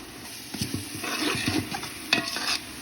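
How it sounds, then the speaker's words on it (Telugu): Spices fry in a pan for green chicken pulao, a faint sizzle under close stirring scrapes and taps of a spoon. "ఇది కూడా పచ్చివాసన పోయేంత వరకు వేయించుకోవాలండి"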